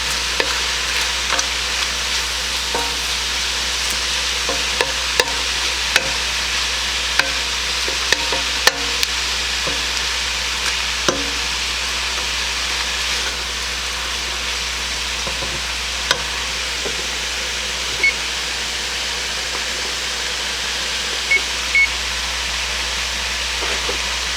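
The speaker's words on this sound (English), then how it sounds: "it says to just saute them until they're fragrant, or about a minute" Spices sautéing in a pan for homemade bean soup give a steady, close sizzle throughout, with occasional light clicks and stirring scrapes over the frying hiss and no talking.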